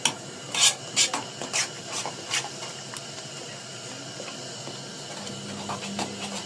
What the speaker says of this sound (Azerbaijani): ama qaşıqdan istifadə edirəm ki, top olmasın.